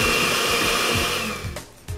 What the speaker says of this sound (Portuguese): E vou bater ele com os ovos e com a manteiga. E vou começar pulsando aqui